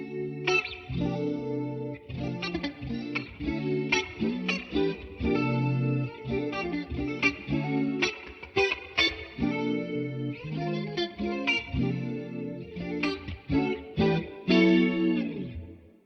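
A clean electric guitar through a worship pedalboard with a lush chorus effect plays a busy rhythmic part of strummed and picked chords, steady and close, with no talk.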